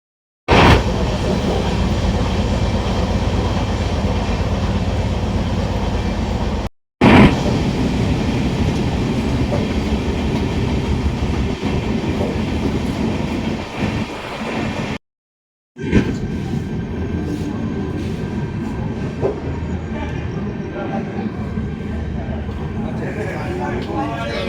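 A passenger train travelling from Howrah toward Burdwan Junction on the route to Parasnath rolls steadily along the rails. The loud, continuous rumble and rattle of wheels and carriages continues, broken by two brief cuts.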